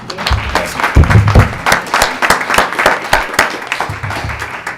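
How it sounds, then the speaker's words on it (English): Applause for a student representative at a school board of education meeting: a burst of claps that swells and ebbs, with a few voices calling out over the clapping. "Give him a round of applause."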